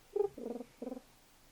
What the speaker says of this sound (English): Kitty honk noise.